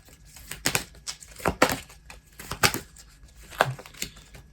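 Tarot cards being shuffled by hand, a series of quick papery riffles and slaps in irregular bursts, close and fairly crisp with no talking.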